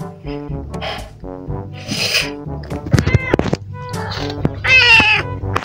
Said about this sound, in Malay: kucing saya ni nak beranak tau.